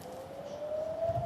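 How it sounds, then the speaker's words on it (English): A steady wail of air raid sirens in central Jerusalem during Iranian missile strikes, distant and sustained, rising slightly in pitch over a low background rumble. "You can hear the sirens now here in central Jerusalem"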